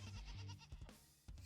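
A herd of goats bleats together, one black goat leading the rest, with overlapping calls close by in a short, busy burst.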